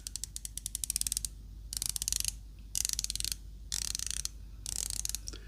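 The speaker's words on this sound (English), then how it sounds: "I will do the bezel thing and let you have a listen to that." The 120-click rotating bezel of a Ratio Freediver chronograph watch is turned in bursts, giving rapid, crisp, close ratcheting clicks in four or five runs separated by short pauses.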